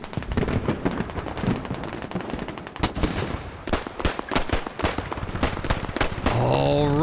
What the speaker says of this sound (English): Fires off an entire clip from his SKS